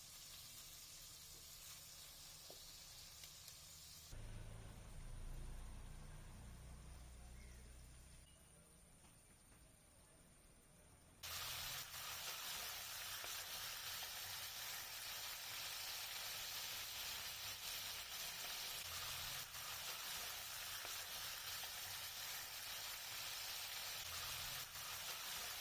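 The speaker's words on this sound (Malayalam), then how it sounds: "ഈ മസാലയൊക്കെ ചേർത്തേക്കുന്നത് ചെമ്മീനിലേക്ക് നന്നായിട്ടൊന്ന് പിടിക്കാൻ വേണ്ടിയാണ് നമ്മളിതൊന്ന് ഫ്രൈ ചെയ്തെടുക്കുന്നത്" Prawns fry gently in hot oil with masala, a faint steady sizzle and hiss that grows brighter and fuller partway through and carries on alone.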